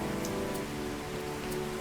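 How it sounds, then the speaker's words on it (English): Heavy rain falls steadily outdoors in late spring, a dense, continuous hiss of drops on the ground with no pauses, fairly faint and heard alone. "Rain is heavy this time of the year, the ground slippery beneath the wolves' feet"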